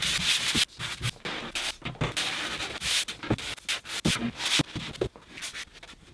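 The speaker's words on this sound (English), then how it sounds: "with our sort of regular hand sanding pad, we can do the flat face of the rails and stiles" Hand sanding pad rubbed back and forth across the flat face of an MDF door's rails and stiles, giving close, rhythmic scratchy strokes with brief pauses between passes.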